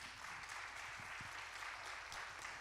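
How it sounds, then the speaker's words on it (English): An audience at the Forum For The Future event at Spring of Hope Church of God in Christ in Springfield applauds Bishop Swan with steady, even clapping that sounds fairly distant and faint and carries on unbroken. "Let's give him a round of applause as he comes."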